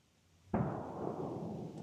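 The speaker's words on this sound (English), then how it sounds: "The gunfire continues." A single muffled boom of distant gunfire, like a musket shot, in Williamsburg; a sharp onset that rolls off into a low, fading rumble against quiet surroundings.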